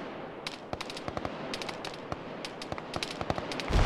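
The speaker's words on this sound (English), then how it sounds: "See enemy gunfire in the trees, it's lighting up the trees" Rapid bursts of gunfire crackle from a squad-based military video game, sharp shots in quick irregular clusters, with a louder burst at the end.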